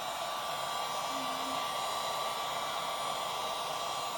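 A heat gun blows a steady, loud hot-air roar across the surface of EVA foam for cosplay, an even continuous whoosh that holds from start to end with no talking.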